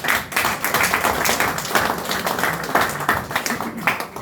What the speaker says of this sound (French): Est-ce que vous avez vu que moi aussi j'ai applaudi?